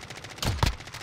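Gunfire in Warzone, a quick pair of close, sharp shots in rapid succession over faint background game noise.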